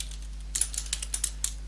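Code being typed on a computer keyboard during a programming lesson, a quick burst of about eight crisp key clicks, close and clear over a faint steady hum, with no talking.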